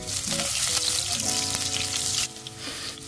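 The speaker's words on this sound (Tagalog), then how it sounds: "inuuna ko muna yung luyang igigisa kasi gusto kong palabasin yung bango niya" Ginger sautéing in hot oil in a pot for a monitor lizard curry, a loud dense sizzle up close that drops to a quieter crackle partway through, with light stirring; no speech.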